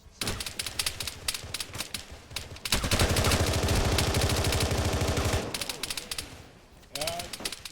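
Arma 3 combat with the OPTRE Halo mod: rapid automatic gunfire bursts crackle in quick rhythmic strings, a long sustained heavy volley in the middle, then scattered shots, with voices faintly mixed in.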